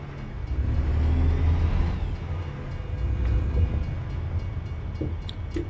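Trains rumble past at night in the trucking game American Truck Simulator, a loud continuous low roar that swells early, eases, then rises again, with faint clanks near the end.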